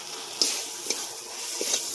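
Potatoes stirred into fried spice paste in a pan for a rohu fish curry with drumsticks, a steady close sizzle broken by a few soft clinks and scrapes of the spoon.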